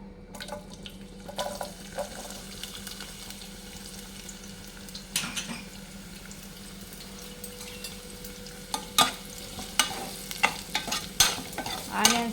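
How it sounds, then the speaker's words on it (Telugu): Chopped onions frying in a pan for a stuffed brinjal masala curry: a soft, continuous sizzle under a low hum, with clinks and scrapes of stirring that grow more frequent and louder toward the end. "ఇప్పుడు ఇందులో తరిగి పెట్టుకున్న ఆనియన్స్ వేద్దాం"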